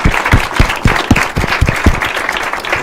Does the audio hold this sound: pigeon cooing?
no